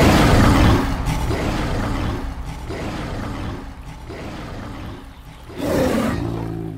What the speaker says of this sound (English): The alpha's roar echoes from afar, beckoning the female Smilodon to return to the pack